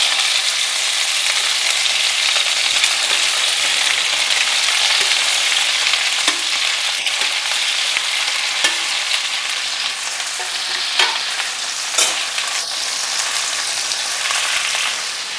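Okra frying in a pan with achari masala and onion over a gas flame, a steady loud sizzle throughout with occasional stirring clicks, no voices.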